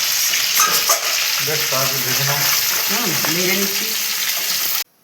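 Fresh fish frying in hot oil in a pan, a loud, continuous close-up sizzle with occasional spatters, while a person talks over it before it cuts off abruptly.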